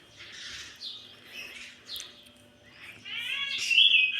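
Sparrows chirp near their chicks, a string of close, bright tweets and squeaky calls that grow louder and busier toward the end, with faint background hum.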